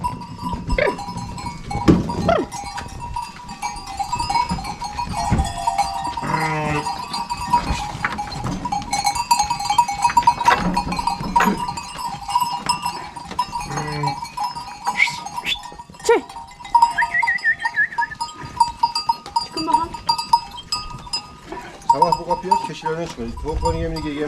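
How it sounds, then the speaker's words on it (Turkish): Goats bleat repeatedly at close range while being herded, wavering cries scattered among people talking, with livestock bells clanking and shuffling in the background. "sektöre giriyor keçiler."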